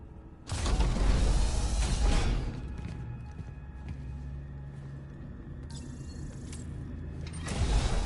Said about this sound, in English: Elias, found the elevator, heading up now.